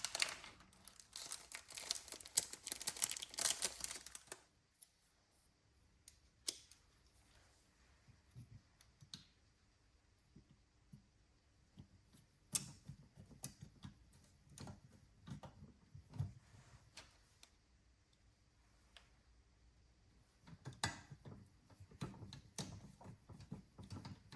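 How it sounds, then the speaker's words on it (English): Tiny screws are fitted with Allen keys while assembling a PCI seat mount for a Porsche race seat. Faint, scattered metallic clicks and small rustles come in short clusters between quiet gaps. "But they just go on with little tiny screws with Allen keys"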